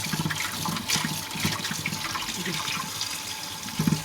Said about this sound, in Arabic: بصوا ميه دافيه تاني اهو، هشطف كده اه